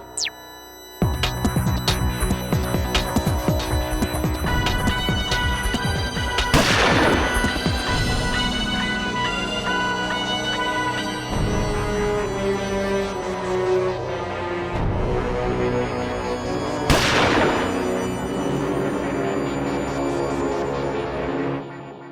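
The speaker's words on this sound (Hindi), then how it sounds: "मैंने गोली चलने की आवाज तो सुनी" Booming shots ring out over loud, continuous music, with a couple of sharp, sweeping blasts standing out amid the festive din.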